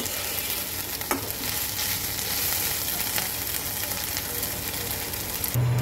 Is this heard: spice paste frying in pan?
yes